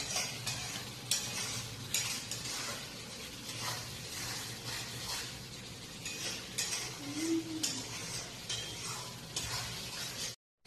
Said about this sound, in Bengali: দেখো মশলা কষাচ্ছে